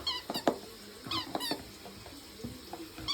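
A dog at home makes faint, high squeaks at night, likely from a new toy ball, in a few short scattered bursts over a soft, noisy indoor background.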